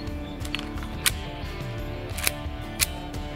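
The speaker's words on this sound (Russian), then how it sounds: "А теперь испытаем мою беретту от Jinji с гораздо более массивным и тяжелым металлическим затвором" A Jinji airsoft gas blowback Beretta pistol with a heavy metal slide fires three sharp, snappy shots at uneven intervals, each a short metallic clack, over a low steady hum of background noise.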